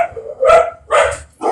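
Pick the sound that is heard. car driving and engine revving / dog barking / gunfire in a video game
dog barking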